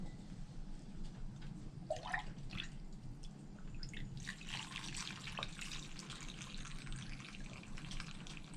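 Juice is poured into a jar packed with turkey gizzards and onion for pressure canning, giving soft, quiet trickling and scattered drips with no voices.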